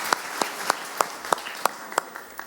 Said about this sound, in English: Just a very quick round of applause.